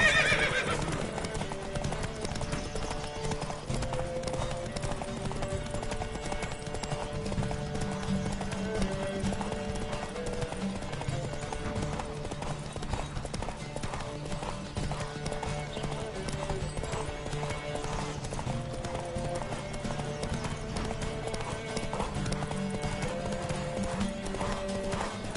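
Horse hooves clip-clop at a steady galloping rhythm in The Witcher 3 video game, loud and continuous under a constant layer of music and ambience, with a brief whinny near the start.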